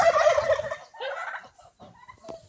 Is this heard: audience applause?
no